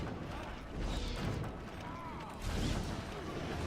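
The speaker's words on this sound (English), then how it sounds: "just take him out with a siege weapon. When in doubt, use a ballista." Ballista siege weapon firing massive bolts in the video game Dragon Age Origins: two heavy mechanical thumps with creaking and rumbling impact, a second or so apart, over a dense, continuous battle din.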